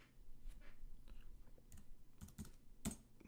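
Computer keyboard keys tapped while entering a cash credit in bookkeeping software, a sparse run of light clicks with a few sharper, louder keystrokes near the end, close and without talk.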